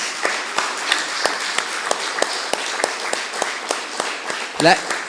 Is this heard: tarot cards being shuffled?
no